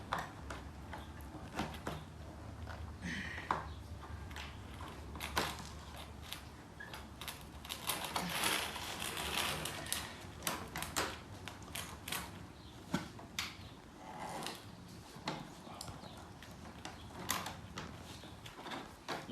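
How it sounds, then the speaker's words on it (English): A hand rivet gun squeezes a rivet on an RV dump hose holder, giving close, repeated mechanical clicks and creaks in an irregular rhythm with no voices. "rivet gun is all the way down to the base of the rivet before you squeeze it again"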